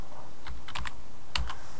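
Keys clatter on a computer keyboard in a few short clusters of close, crisp taps, with brief pauses between them, over a steady background hum.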